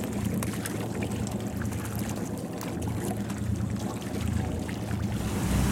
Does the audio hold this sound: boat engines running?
yes